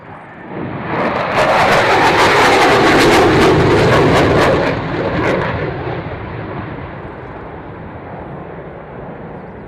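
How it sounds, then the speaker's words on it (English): Simulated explosion striking an armoured vehicle at a military display with aircraft overflying: a loud broadband blast with crackling bursts swells in, holds for a few seconds, then fades into a long, lower rumble. "the explosion was simulating a friendly forces armoured vehicle taking a direct"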